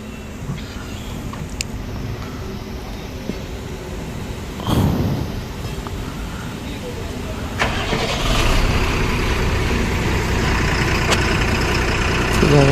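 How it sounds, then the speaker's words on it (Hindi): Car engine starting after a clutch repair: a steady engine rumble that swells louder near the end of the stretch, heard up close outdoors with background noise and a few brief bumps. "गाड़ी अब स्टार्ट करके देखा जाएगा।"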